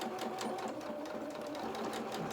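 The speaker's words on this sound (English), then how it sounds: "we're going to sew to the end. and then reverse at the top again" Sewing machine running continuously while stitching a doll's pinafore, a fast, even, close-up mechanical whirr and clatter throughout.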